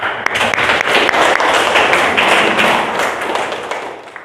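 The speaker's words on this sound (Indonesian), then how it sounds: "Beri tepuk tangan untuk yang menjawab." Classroom students clap together for a classmate's correct answer during a lesson on marriage in Islam, a steady, close round of hand claps with sharp individual taps standing out, lasting about four seconds.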